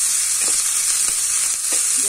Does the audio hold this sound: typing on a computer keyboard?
no